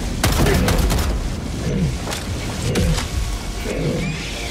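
Mortar stratagem shells fire and explode in a shooter video game, a series of heavy booms and thuds landing every second or so over continuous battle noise.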